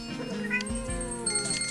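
A cat in the farming game Blockie Farm gives short, clear meows in quick succession, close and distinct over a faint game background.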